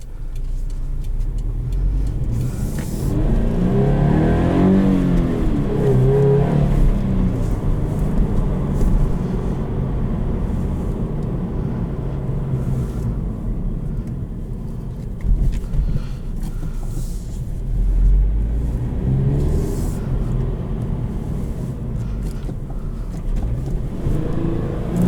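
A 2020 Subaru BRZ Limited with a manual gearbox drives along, its engine humming and rising in revs with a few shifts, plus road and cabin noise.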